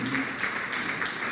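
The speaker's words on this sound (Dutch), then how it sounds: "En dan nogmaals een applaus" An audience at a Dutch-language evening show applauds steadily, a close, even roar of many hands lasting the whole moment with a faint voice underneath.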